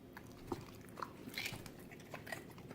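A pet bites and crunches through a piece of raw green pepper, a few distinct close, crisp bites spaced through quiet chewing, with no talk over it.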